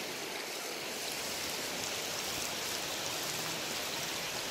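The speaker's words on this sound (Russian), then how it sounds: "Пройти через речку, через ручей." A mountain stream on the Donut Falls hike in Utah rushes steadily, a dense, even broadband wash of water that stays close and unbroken with no voices.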